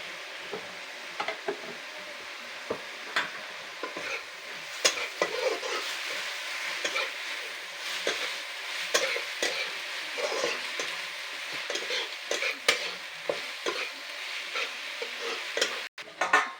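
Taro stalks stir-frying with turmeric in a pan give a steady, close sizzle with repeated scraping stir strokes and light ticks throughout, and no talking.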